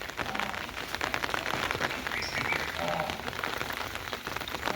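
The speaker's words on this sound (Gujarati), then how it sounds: "વરસાદ જામ્યો અને બારક ઇંચ વરસાદ થઈ ગયો" Heavy monsoon rain pounds down at a cattle shed, a dense, constant hiss and patter of drops on surfaces close by, unbroken from start to finish.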